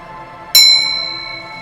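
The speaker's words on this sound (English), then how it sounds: "Cover your ears if you don't like to hear the shame bell." A loud, bright bell struck once as a shame bell sound effect, sharp on impact and ringing on with a long, slowly fading shimmer after a quiet moment.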